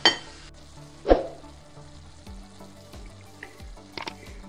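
Minced meat and finely chopped onions fry in sunflower oil in a pan, a soft steady sizzle broken by a few clinks and scrapes of a utensil, with no voices.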